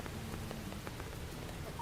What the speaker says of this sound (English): Rain is very loud.